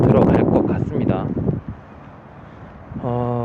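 Strong outdoor wind rumbles and buffets a gimbal camera's built-in microphone, heavy under a man's speech at first, then a low steady roar on its own before a tonal engine-like hum comes in.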